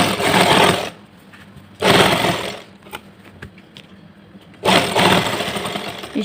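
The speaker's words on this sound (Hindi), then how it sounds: "इस तरह से पूरा बेल्ट में हम ये सिलाई लगा लेंगे" A sewing machine runs in three loud bursts while stitching the lining into a salwar waistband, with quiet pauses and faint handling clicks between the runs.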